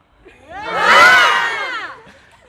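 High school students shout together in one long collective yell as they breathe out, the crowd noise swelling to a loud peak and then fading away, outdoors during a physical education relay-running lesson.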